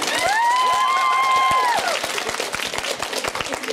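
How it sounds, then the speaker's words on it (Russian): A crowd claps and cheers while a whistling tone rises and holds, then the applause breaks into scattered separate claps. "Поддержите уж по-настоящему, хорошими аплодисментами"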